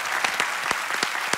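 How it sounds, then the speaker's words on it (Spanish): Audience applause for live musicians at a televised Operación Triunfo 2020 gala, dense sustained clapping with a few sharper claps standing out, loud and close. "Un aplauso para la gente que toca en directo, de verdad"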